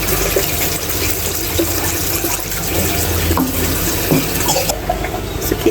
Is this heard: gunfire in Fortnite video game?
no